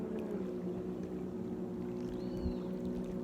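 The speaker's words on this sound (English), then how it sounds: "now there are more boats coming and more" A low motor drone hums steadily across open water, with a faint higher whine rising briefly as another boat passes at a distance.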